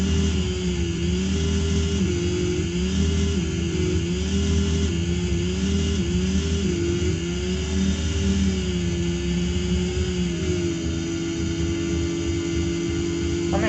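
A KTM 660 Rally motorcycle engine in the Paris-Dakar Rally video game, with a steady, loud droning hum whose pitch rises and dips slightly as the bike rides over sand, continuous and alone.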